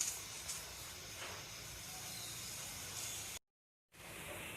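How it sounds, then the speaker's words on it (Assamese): Sour fish curry boiling in a pot, a faint steady bubbling hiss close by, with a short gap of silence near the end. "মোৰ দাইলখিনি মানে মাছৰ টেঙা জোলটো ইমান ধুনীয়াকৈ উতলিছে।"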